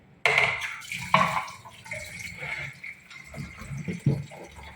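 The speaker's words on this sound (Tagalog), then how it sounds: "hugasan mo muna sa tubig" A piece of plastic is rinsed under running tap water, with splashing bursts, sloshing and a brief gush, close by and uneven in loudness, with no talking.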